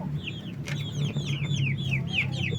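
Kabir chickens in a free-range backyard cluck in a rapid string of soft, repeated calls, fairly near over a low background hum.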